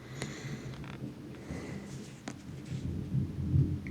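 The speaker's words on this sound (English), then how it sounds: "Can you hear the thunder?" Distant thunder rumbles low and soft through an indoor room, a faint continuous roll that swells slightly toward the end, with no talking.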